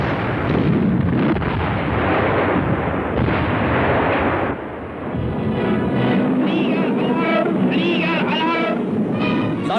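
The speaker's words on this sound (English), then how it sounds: "20mm and 88mm flak guns provide a heavy barrage which takes its toll on a number of the" A heavy barrage from 20mm and 88mm anti-aircraft flak guns at a German air and seaplane base in northern Norway during a Soviet air attack in 1943, a dense continuous rumble of booming fire with a voice narrating over it.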